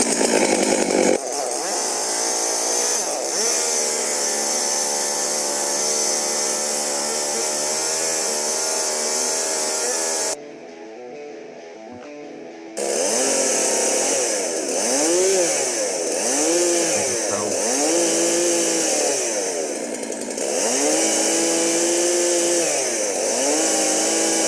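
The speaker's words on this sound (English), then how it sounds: "we're going to test out this chainsaw using both our safety toe shoe and our non-safety toe" A chainsaw roars close by while cutting into a safety-toe shoe, its engine revving up and down repeatedly, cutting out briefly partway through before starting up again.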